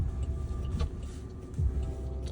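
Inside a self-driving taxi on San Francisco streets, a car rolls past outside, a brief muffled whoosh over the cabin's low road rumble, moderately quiet and without talk.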